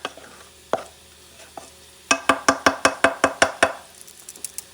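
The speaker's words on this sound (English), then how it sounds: "It's not ready, just a quick stir." Plantains cooking in a pan get a quick stir, heard as a fast run of about ten sharp, evenly spaced clacks of a utensil against the pan, close and loud after a few scattered knocks.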